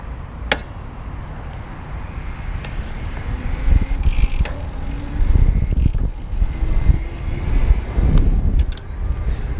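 An IZIP E3 Moda electric bike rides along in sport mode, with continuous road and wind rumble, intermittent clicks and rattles from the frame, and the sound swelling as speed picks up.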